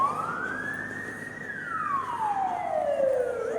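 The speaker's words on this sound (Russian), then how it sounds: "Ой, скорая вон несется." An ambulance siren wails, sweeping up and then down in pitch, growing louder as it approaches through traffic jams, with faint traffic noise underneath.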